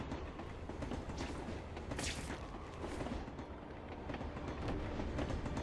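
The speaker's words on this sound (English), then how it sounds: "Yay, train time!" A train rumbles past in The Amazing Spider-Man 2 video game, a loud continuous rolling roar with rhythmic clatter and a couple of heavy thumps, heard alone without talking.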